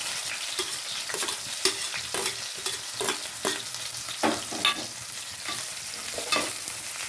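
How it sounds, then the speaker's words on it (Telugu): Chopped onions and green chillies frying in oil in a pan and stirred with a spoon, steady close sizzle broken by repeated scraping strokes, no voices. "ఇప్పుడు ఉల్లిపాయలు చేస్తున్నానండి. ఉల్లిపాయ పచ్చిమిరపకాయ"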